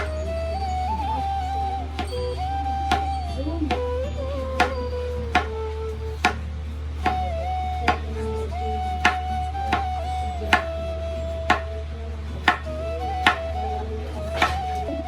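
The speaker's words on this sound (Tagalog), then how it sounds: "I just only have 1 carrot, okay? Cut into pieces." A knife chops a carrot on a cutting board in steady, evenly spaced sharp knocks, about one per second, over a constant low hum.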